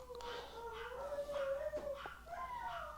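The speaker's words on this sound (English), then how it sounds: "Don't mind the dogs in the background." Dogs howl and whimper in the background, a drawn-out wavering howl rising and falling over several seconds, moderately distant, with no talk over it.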